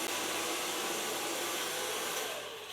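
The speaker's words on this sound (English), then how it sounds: "So far blow drying." A hair dryer blow drying a blonde bob haircut, a loud, steady broadband rushing whoosh with a constant motor hum that stays close and unbroken throughout.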